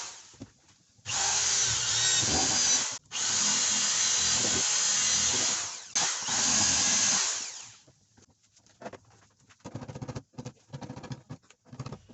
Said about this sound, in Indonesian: Saya pakai bor untuk lubangi.